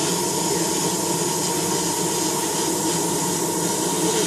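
Steady airbrush hiss at 20 psi while glossy model paint is sprayed, a continuous even rush of air with a faint tonal whine, no breaks or voices.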